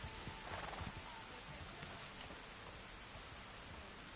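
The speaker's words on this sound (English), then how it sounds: "Pouring down rain and Dutch is just standing there as if it's absolutely beautiful." Steady pouring rain in the video game Red Dead Redemption 2, a dense, even hiss of drops on surfaces throughout, fairly faint, with scattered soft taps and no talk.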